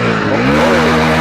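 A Hero HF 100cc motorcycle from 2023 with its engine running close by, a loud steady thrum with a faint rise in revs partway through and no talking.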